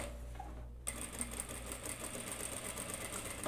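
An electric sewing machine runs a straight edge stitch along a blazer panel, a quiet steady whirring hum after a brief pause, close and alone.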